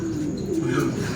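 Racing pigeons coo in low, soft repeated calls close by, with a light chirp above and steady outdoor background, as the birds come in to land.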